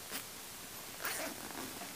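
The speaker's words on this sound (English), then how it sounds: "I'm going to unzip this right here." A zipper on a laptop bag is pulled open in two short, soft, scratchy runs. The sound is quiet and close against faint room noise.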